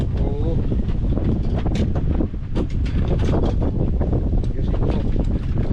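Gusty wind buffets the microphone loudly, while people talk over it.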